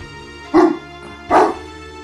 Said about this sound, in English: doggies are barking